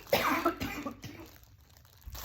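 A couple of sharp, close coughs in quick succession, followed by quieter room noise.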